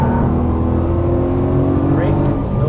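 A Nissan GT-R accelerating hard on a race track, heard from inside: a loud, steady engine drone with a slowly rising pitch, close and continuous throughout.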